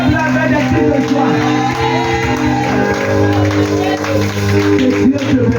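A church congregation cheers, shouts and whoops for joy with clapping, a loud, dense crowd roar that continues without a break, with musical tones and a voice underneath.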